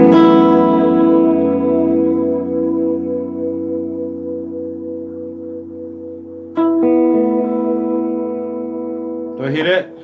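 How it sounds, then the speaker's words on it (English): Sustained harmonic instrument tones played through a reverb pedal with a modulation mod, a long wash ringing out and decaying, then a second struck chord around the middle and a brief bright flurry near the end, loud and alone. "I got this mod on my reverb pedal."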